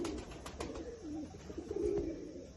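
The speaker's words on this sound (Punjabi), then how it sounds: "ਦੇਖੋ ਇਹ ਕਬੂਤਰ ਹੈ" Pigeons coo softly and repeatedly, low rolling calls at a quiet level with no talking.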